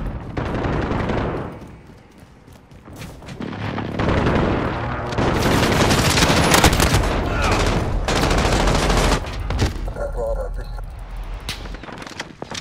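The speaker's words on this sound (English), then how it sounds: "Enemy precision airstrike, take cover" Rapid gunfire and booming blasts from a precision airstrike in the shooter game Modern Warfare, dense overlapping bursts and explosions rising and falling over several seconds, with a voice talking in between.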